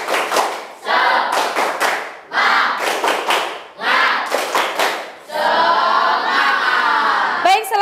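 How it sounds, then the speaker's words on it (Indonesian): An Indonesian classroom of students performs a rhythmic clapping cheer, loud bursts of unison claps and shouts in repeated phrases separated by short pauses, ending in a longer sustained burst of voices and clapping. "Oke, tepuk semangat."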